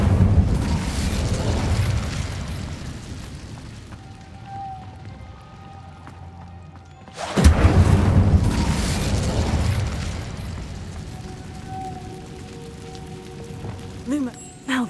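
A fire spell cast in the Hogwarts Legacy video game: a loud burst erupts at mid-clip and rolls into a crackling, rumbling roar that slowly fades, with softer magical hums and rumbles before and after.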